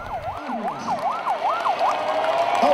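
An ambulance siren wailing in a rapid up-and-down yelp, about six quick sweeps in a row, fairly close and loud over a low traffic hum.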